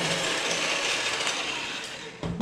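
Electric mixer whirring steadily through egg whites being beaten with sugar, a dense broadband buzz that holds nearly constant for about two seconds before a brief clatter at the end.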